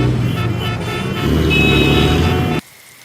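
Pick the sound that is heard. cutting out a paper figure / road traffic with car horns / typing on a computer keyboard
road traffic with car horns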